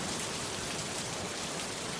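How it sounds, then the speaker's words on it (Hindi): Rain falling outside, a dense, steady hiss of drops that stays constant throughout, full and close with no other sounds. "बाहर बारिश शुरू हो चुकी थी।"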